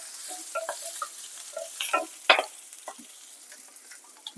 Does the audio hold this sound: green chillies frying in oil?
yes